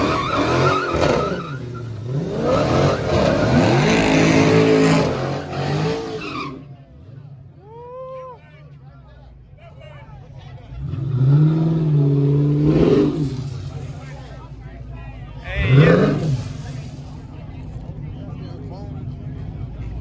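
A C8 Corvette and a Dodge Challenger roll-racing, with engines revving and roaring past in loud surges, tire squeal and passing swells, while excited voices shout and talk over the action.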